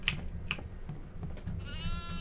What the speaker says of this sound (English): Oh, there's a fucking goat right here at the front.